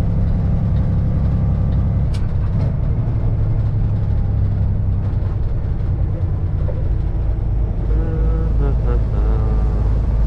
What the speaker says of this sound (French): Il y a quand même pas mal de circulation ce matin.